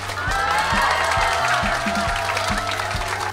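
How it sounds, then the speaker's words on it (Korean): A lecture audience gives big applause welcoming a teacher at an offline interview-prep session, a steady wash of many hands clapping with some cheering mixed in, loud and continuous throughout. "큰 박수 부탁드립니다."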